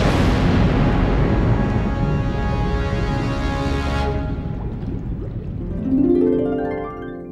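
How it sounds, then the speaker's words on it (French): A huge, roaring explosion rumbles loudly and continuously, then fades into a lingering, ringing decay with a final swell of rumble. "provoquant ainsi une énorme explosion"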